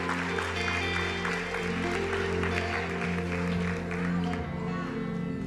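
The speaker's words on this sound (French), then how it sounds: "linda salva de palma" Sustained applause from a church congregation at a charismatic worship service, a steady dense clapping that holds at an even level throughout over sustained musical tones.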